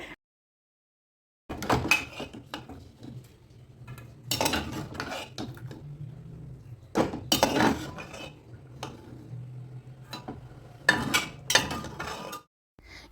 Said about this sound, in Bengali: এখন প্রেশার কুকারে ঢাকনাটা খুলে নিচ্ছি এবার জল থেকে আলু সিদ্ধগুলো তুলে নিতে হবে